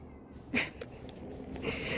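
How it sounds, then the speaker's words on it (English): A cat indoors at an old inn gives one short meow near the middle, fairly quiet over room noise, with a softer cry or two following. "Where'd that cat go?"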